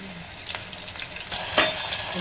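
Mustard seeds, curry leaves and chillies sizzle in hot oil with a steady crackling hiss, sharp pops and spatters rising louder toward the end as the ingredients hit the pan; no voices.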